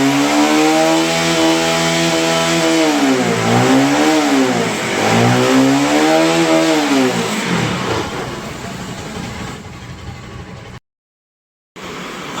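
A Bajaj Pulsar NS 200 motorcycle engine, just repaired after a fuel pump fault, revs loudly and up close in repeated rising and falling surges. It then settles to a rougher idle before a brief cutout.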